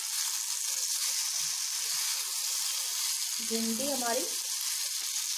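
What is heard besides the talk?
stuffed okra (bharwa bhindi) cooking in a covered pan on low flame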